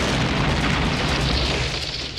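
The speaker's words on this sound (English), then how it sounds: "That was a bomb?" A bomb explosion from a trailer for the action film The Last Boy Scout, a loud sustained rumbling boom filling the whole stretch with dense low-end roar and no speech.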